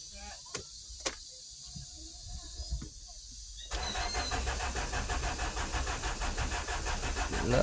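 A Hyundai Tucson that had been cranking without starting makes a few clicks and brief whirs, then its engine catches and settles into a steady, loud idle for the rest of the clip.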